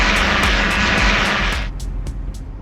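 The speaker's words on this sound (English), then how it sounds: "That plane going over from Bristol Airport." An airplane from Bristol Airport passes overhead, a loud broad roar that fades partway through, with a rhythmic ticking pulse running throughout.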